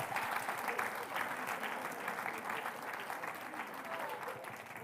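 A church congregation applauds during a Sunday service, a steady, dense wash of clapping from many hands that holds evenly for about five seconds with a faint murmur of voices underneath.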